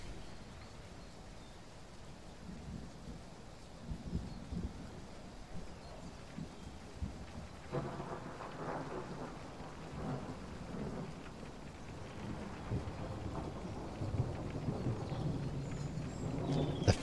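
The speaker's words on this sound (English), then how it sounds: "Thunder sounds are nice." Steady rain patters throughout a thunderstorm in the video game Train Sim World 4, while low thunder rumbles build and roll, growing heavier in the second half with a sharper crack near the end.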